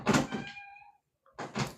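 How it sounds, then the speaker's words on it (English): A pet cat named McKenna gives a short, close meow between louder bursts of rustling and clattering at the start and end. "My cat."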